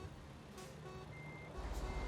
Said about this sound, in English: I appear to have clipped that international and set its alarm off.